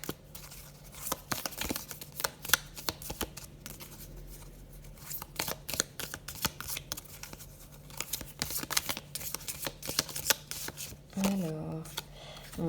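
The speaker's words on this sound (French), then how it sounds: "Je reprends les cartes." Tarot cards are gathered and shuffled by hand, producing a close run of quick, irregular papery riffles and slaps, with brief speech near the end.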